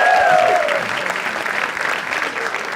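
Sustained audience applause fills the room at a comedy talent show, dense and steady throughout, with a brief whistle-like tone near the start and crowd noise underneath.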